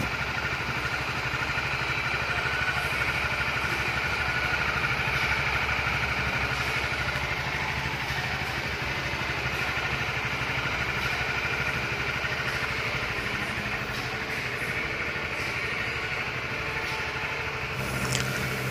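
A ported Honda CB150R motorcycle engine idles steadily at close range, a continuous even drone with a faint high whine and no pauses or revving.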